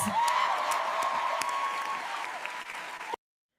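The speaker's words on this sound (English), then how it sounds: "Everyone give Gummy a round of applause" A crowd applauding steadily with a whistle-like tone over it, the clapping thinning slightly before cutting off abruptly.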